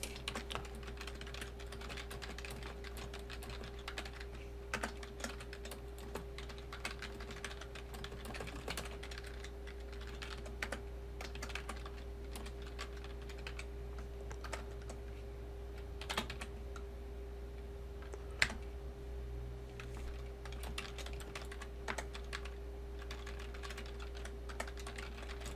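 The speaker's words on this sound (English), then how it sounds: "Let's type in the information that they wanted." Steady quick tapping on a computer keyboard while entering text on a PC, faint and close over a constant low electrical hum, with no talking.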